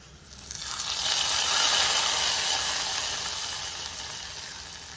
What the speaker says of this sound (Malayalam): ഇനി നമുക്കിത് നമ്മുടെ കറിയിലേക്ക് ചേർത്ത് കൊടുക്കാം